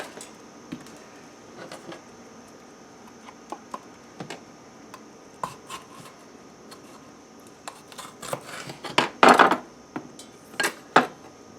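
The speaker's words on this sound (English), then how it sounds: "I'm just going to cut thin strips out of this." A knife slices a red pepper into thin strips on a cutting board, with scattered light taps early on and a quicker run of crisp cuts toward the end, heard close and clear without speech.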